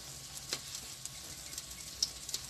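Tortang okra, an okra omelette, frying in a pan: a faint, steady sizzle with small scattered pops and crackles, quiet and alone.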